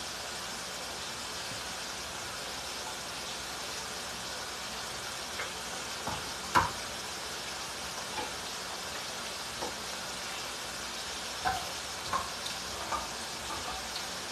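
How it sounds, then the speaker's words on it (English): Fritters frying in a pan: a faint, continuous sizzling hiss with a few soft clinks and taps scattered throughout, quiet and steady with no talking. "so I can stop frying the fritters"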